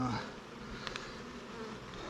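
Honey bees buzzing around an open hive during a beekeeper's inspection, a steady droning hum with a couple of brief louder passes close by, no talking.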